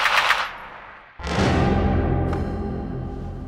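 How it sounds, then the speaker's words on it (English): A machine gun fires close and loud, a burst of shots followed by a longer sustained burst with echoing report, while talk of wide suppressive arcs of fire accompanies it. "what you want a machine gun to do is put a wide arc of fire out when you're firing bursts"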